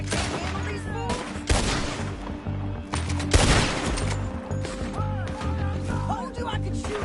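Gunfire erupts in a Red Dead Redemption 2 shootout, sharp repeated shots and bursts with crashes over a low rumbling background, loud and close, with speech in between.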